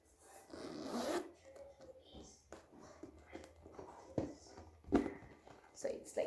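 A zipper is drawn open on a Louis Vuitton Speedy 30 handbag, a few soft, close rasping pulls, with quiet speech and handling of the bag around them.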